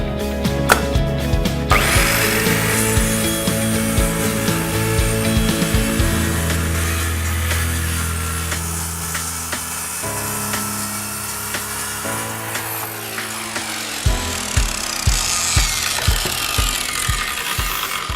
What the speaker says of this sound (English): I'm going to cut it down using a circular saw